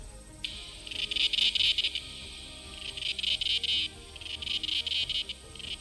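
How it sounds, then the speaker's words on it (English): A swarm of cicadas sings loud, sustained high buzzing trills in repeated pulsing waves, swelling and fading several times over a steady background hum, with no voices. "cicadas make a pleasant sound that envelops you from all sides"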